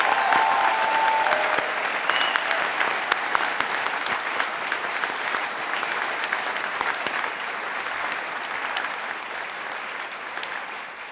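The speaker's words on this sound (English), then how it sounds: "Please join me once again in congratulating all of the graduates with your applause." Large convocation crowd applauding university graduates, a dense, sustained roar of clapping filling a big hall and slowly tapering off near the end, with no talk over it.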